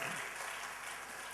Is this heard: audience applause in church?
yes